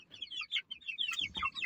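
A group of chickens clucks and chirps close by in a lively, uneven run of short calls, some louder bursts rising over the rest, with no talk.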